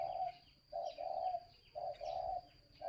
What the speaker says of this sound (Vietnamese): Đấy là gù.